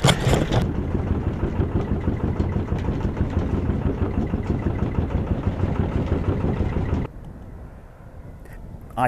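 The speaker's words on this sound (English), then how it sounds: "then I'm going to have to start the engine pretty soon" A small sailing boat's engine runs steadily at close range, a continuous mid-pitched throbbing idle that drops to a quieter, lower drone near the end.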